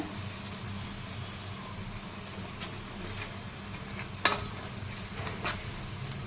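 Paste for chicken gravy curry frying in oil in a pan, a steady soft sizzle and hiss, with a few sharper clinks of stirring near the end and no talk.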